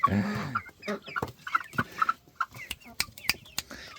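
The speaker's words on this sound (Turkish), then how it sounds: "Şu siyah horoz bakın bakın bakın horoza bakın" A black rooster clucks nearby in short, irregular bursts, alongside sharp clicks and a few soft calls.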